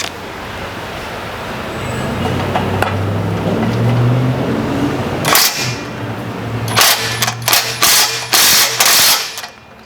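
An impact wrench fitted with a swivel head works on crusty, lubricated bolts. A low rumbling hum comes first, then several sharp, loud bursts of rapid hammering in short runs with brief pauses between them.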